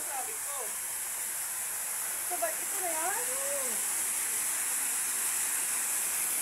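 Kalibong Falls in San Nicolas, Pangasinan pours as a steady, broad rushing roar, constant and unbroken, with a few faint birdlike chirps drifting over the wash.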